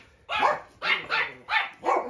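A small, pregnant Teddy dog barks five times in quick succession, close and clear, with short gaps between the sharp yaps.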